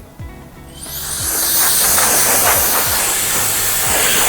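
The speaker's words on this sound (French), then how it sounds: "Le souffleur, ça c'est pratique ça, pour enlever tous les cheveux." A barber's air blower starts after a short pause and hisses loudly and steadily, a close, sustained rush of air blowing away cut hair.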